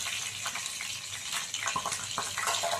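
Prawns coated in masala fry steadily in a pan, a close, continuous hiss and crackle with scattered sharper pops, heard alone without voices.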